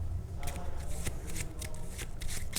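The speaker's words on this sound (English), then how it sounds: "and then you shuffle." A Digimon trading card deck is shuffled close up, with quick riffling bursts of cards slapping together in a rapid uneven rhythm.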